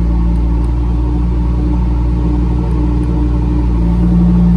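A Lamborghini engine in Strada mode idles with a deep, steady rumble, loud and close, holding an even tone throughout with no voices.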